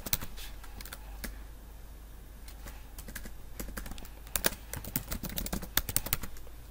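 Someone types a password on a computer keyboard during a VMware ESXi installation, producing a quick run of light, irregular key clicks that get denser toward the end, close by over a faint low hum, with no speech.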